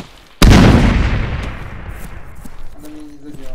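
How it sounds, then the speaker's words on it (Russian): A grenade explodes in a competitive capture-the-flag video game match: one sudden loud blast that rolls off over about three seconds into a fading rumble. "Граната, граната!"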